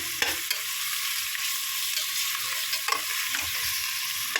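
Ginger sizzling and frying in a pan for chicken biryani, a steady broadband hiss with occasional stirring scrapes and clicks, close and fairly loud, no voices.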